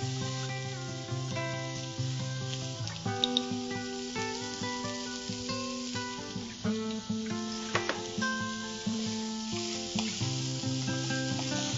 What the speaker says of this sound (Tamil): இதுக்கு தேவையான அளவு உப்பையும் இதுலயே போட்டு வதக்கிடலாம்